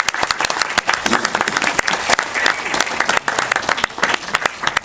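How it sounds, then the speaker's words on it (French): Cinema screening audience applauding the film's lead actor, Olivier Sadouane: dense, sustained clapping filling the room, loud and continuous with scattered louder claps throughout. "Olivier Sadouane, donc acteur principal du film, que je vous demande d'applaudir, il a été génial"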